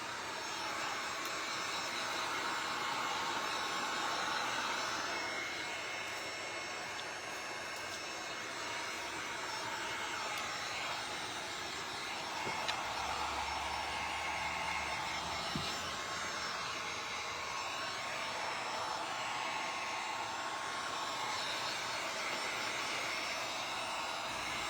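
A heat gun or drying tool blows steadily over a freshly painted sign, giving a continuous whooshing hum with no breaks, heard alone at moderate distance.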